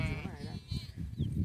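Sheep bleating in a farm field, a harmonic bleat near the start among a grazing flock, heard under ongoing close conversation in Kannada with low rustling and handling noise.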